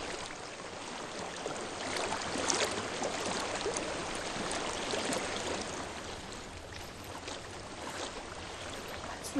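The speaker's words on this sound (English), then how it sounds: "I hear water." A flowing water stream in the video game Hellblade: Senua's Sacrifice: a steady, moderately loud rushing and trickling wash with faint splashes, continuous and unbroken, with no talking.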